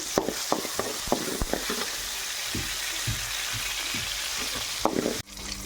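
Mustard seeds, peanuts and urad dal frying in hot oil in a pan, a steady crackling sizzle with sharp pops and stirring scrapes, fairly close, ending abruptly.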